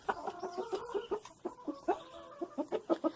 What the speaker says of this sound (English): So these are some of my silkies